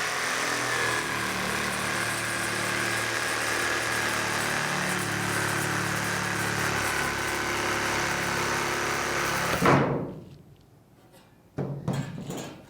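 A power saw runs steadily, cutting wood for a bookshelf, with a loud continuous high whine that cuts off abruptly near the end, followed by a brief quiet gap and a couple of short knocks.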